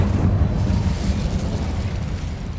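A fire spell cast in the Hogwarts Legacy video game gives a loud, steady rumbling roar with crackling bursts that holds for nearly three seconds, with no voices.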